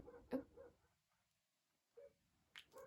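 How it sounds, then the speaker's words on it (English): A few short, faint dog barks and yips come from some distance, in three brief bursts separated by quiet. "my dogs are barking"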